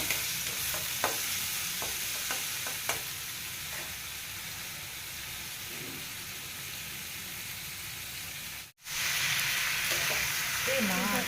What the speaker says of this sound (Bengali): এখানে পেঁয়াজটা ভেজে